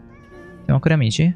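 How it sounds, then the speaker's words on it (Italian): A small cat meows in the video game Lies of P, its short mewing calls mixed with someone talking over them. "c'è il gattino ancora"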